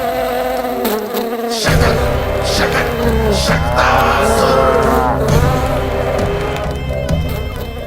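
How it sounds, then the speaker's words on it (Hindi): A housefly buzzing loudly and continuously, close up, with a wavering drone that rises and falls in pitch throughout, under a dramatic soundtrack. "लगता है मक्खी थक गई है, कोई और साधन ढूंढना पड़ेगा।"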